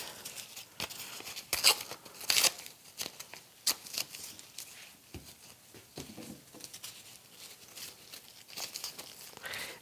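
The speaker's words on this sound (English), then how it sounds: "So tear that off." Paper or collage material is torn off and handled during mixed media work, with crisp ripping and crinkling bursts scattered unevenly across the stretch, close and moderately loud with quieter rustling between.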